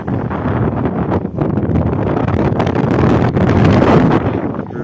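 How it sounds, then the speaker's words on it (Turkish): Strong wind roars and buffets the microphone steadily, gusting louder in waves with no voices, during a forest fire in Gülnar, Mersin, Turkey. "Rüzgara bak, rüzgarda yangın söner mi?"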